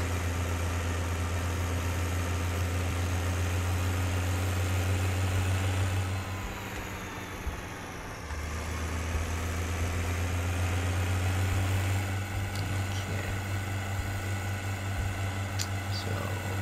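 A tractor engine idles in the Farming Simulator 17 video game with a steady low drone that holds for the whole stretch, briefly dipping and wavering midway before settling back to the same even hum.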